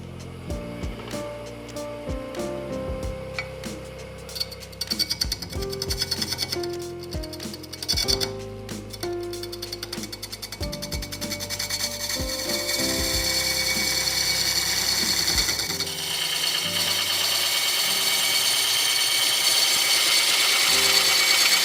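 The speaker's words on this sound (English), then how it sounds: "The parting tool is a great way to establish those parameters." A parting tool cuts into a black acacia stump spinning on a wood lathe, with a droning motor hum and rattling, clicking contact noises that give way to a rising, steady hiss of cutting.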